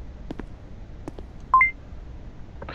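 Two short, clear electronic tones, like keypad beeps, sound close together in the video game Dead Man's Journey, set among faint scattered clicks.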